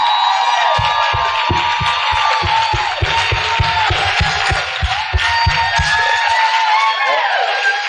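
An audience at a library talk event cheers and applauds, a loud, steady wash of crowd noise with whoops, while a rhythmic thumping beat pulses underneath for most of the stretch.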